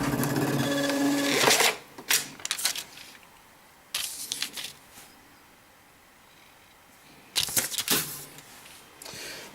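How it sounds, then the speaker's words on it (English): A restaurant receipt printer printing a check gives short, rapid mechanical buzzing bursts separated by quiet pauses, heard close up. "basically just hit the print, and it will print a check"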